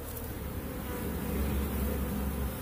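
A small honey bee swarm hanging on a tree limb gives a close, continuous buzzing hum that stays steady and fairly loud with no voices.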